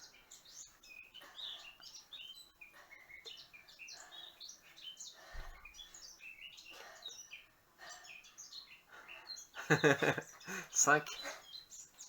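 Small birds chirp and twitter outdoors in quick, scattered calls, with a louder burst of chirping near the end; a person briefly counts aloud over them.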